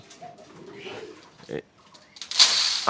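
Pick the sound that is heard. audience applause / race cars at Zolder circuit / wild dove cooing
wild dove cooing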